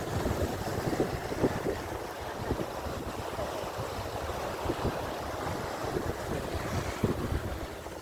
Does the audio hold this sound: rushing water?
yes